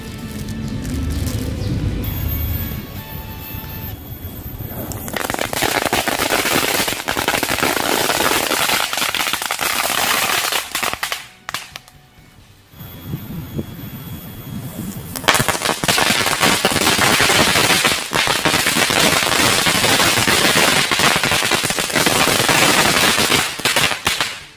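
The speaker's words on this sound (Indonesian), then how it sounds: "sekarang kita cobain Roman candle dan juga mercon yang ini" A long, loud barrage of firecrackers and roman candle shots at a Chinese New Year celebration, crackling and popping in rapid bursts, with a short lull midway before the blasts resume.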